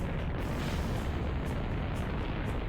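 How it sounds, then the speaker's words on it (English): Explosions of separation boosters in Kerbal Space Program, a dense rumbling burst of blast noise filling the whole moment, loud and continuous with no talk. "got a little bit of explosions there"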